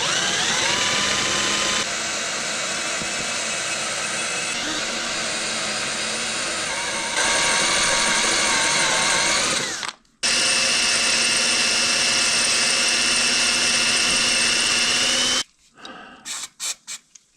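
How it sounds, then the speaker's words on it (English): A power drill whines steadily as it bores a hole overhead, running nonstop for about ten seconds, pausing briefly, running again, then finishing in a few short bursts. "Drilling this way is so hard."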